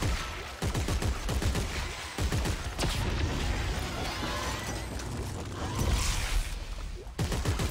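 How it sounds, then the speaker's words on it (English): Rapid, dense gunfire from a weapon in the video game Dead Space 3, sprayed in long continuous bursts with sharp transient cracks, loud and close throughout, with no talking over it. "That's another reason I like this gun, because you can spray and pray with it."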